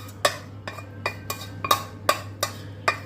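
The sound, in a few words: mixing glutinous rice with coconut milk and brown sugar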